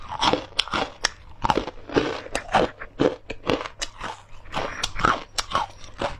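Crunchy peanut chili crisp being bitten and chewed up close, a rapid run of sharp crackling crunches repeating steadily throughout with no talking.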